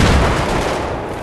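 Rapid gunfire from a Battlefield 3 firefight, loud and continuous with dense overlapping shots and low booms throughout, no voices.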